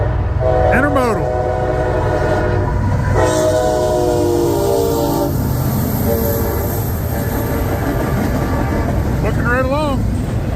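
A westbound CSX intermodal freight train rolls past with a loud, continuous roar of wheels and cars, punctuated by several blasts of its horn near the start and end.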